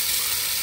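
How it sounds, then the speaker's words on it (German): Shashlik sizzles steadily in a pan over a hot gas stove, a close, even crackling hiss filling a brief moment with no voices. "Schaschlik geht auch in der Pfanne. Bei der Hitze mit dem Gas ist alles gut."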